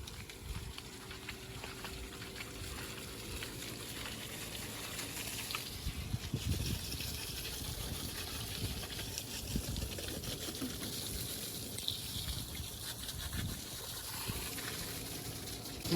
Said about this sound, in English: Monsoon just came.